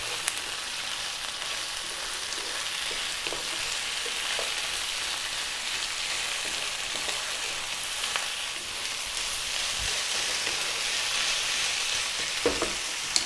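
Chicken curry sizzles and fries steadily on high heat while being stirred, giving a loud, continuous hiss with occasional soft scrapes and clicks close up.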